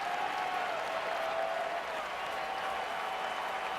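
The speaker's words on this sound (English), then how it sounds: "the crowd trying to encourage their starting pitcher" Crowd at a 2010 St. Louis Cardinals vs Chicago Cubs baseball game, a steady wash of applause and cheering from a large stadium audience filling the whole stretch, with no voices standing out.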